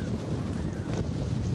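Steady wind buffeting a microphone outdoors in a village beside a swollen river, a loud continuous low rumble with gusty flutter throughout and no voices.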